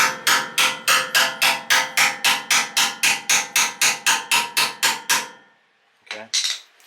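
Hammer tapping a snug adapter onto the engine shaft of an Ariens 1024 Professional snowblower being re-powered with a Briggs and Stratton engine: about twenty sharp metallic taps in a steady quick rhythm, close and loud, then a brief faint clatter.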